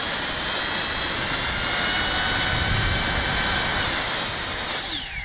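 A powerful blower fan pushes a strong rush of wind, a loud steady whine and roar held for several seconds before spinning down at the end, close and alone.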